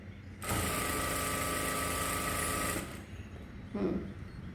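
Sewing machine running a fast, steady stitch along a saree hem for about two seconds, then stopping; a faint knock follows in the quiet room.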